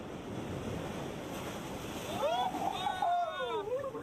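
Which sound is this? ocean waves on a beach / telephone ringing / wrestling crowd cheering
ocean waves on a beach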